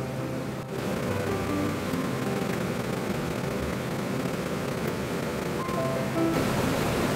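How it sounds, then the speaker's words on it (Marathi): Heavy monsoon rain falling steadily in Kandivali, Mumbai, a dense, even roar of water that holds at a loud level for the whole stretch with no voices over it. "खूप पाऊस पडतोय आमच्याकडे कांदिवलीला"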